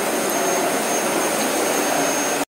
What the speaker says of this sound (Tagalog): Ayan, nag-vacuum naman nga ako dito.